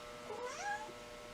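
A cat gives a single soft rising-and-falling meow, close but quiet against a faint steady background hum, with no talking during the call.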